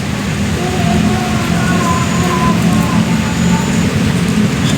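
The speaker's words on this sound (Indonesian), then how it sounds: "Hujan lagi coy." Steady rain pours down at night near a cemetery, a dense constant hiss filling the whole stretch with a low rumble beneath and no clear pauses.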